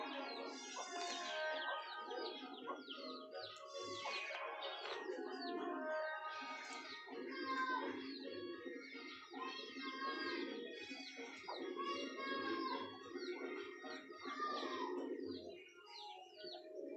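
Pigeons coo in a busy chorus near chickens, the overlapping warbling calls and soft chirps continuing steadily throughout at close range.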